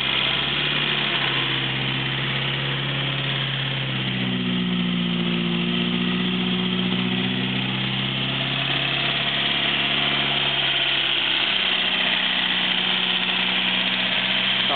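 A 1934 Morris 10 engine idles steadily up close, a constant mechanical drone whose pitch rises briefly as it is revved, with no voices.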